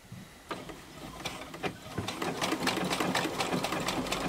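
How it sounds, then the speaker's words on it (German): A sewing machine runs steadily down the straight side edges of a fabric bag, its rapid mechanical stitching rhythm building in bursts and then holding a continuous whir close by, with no talking. "Und rechts und links an den geraden Kanten hier einmal runtergenäht."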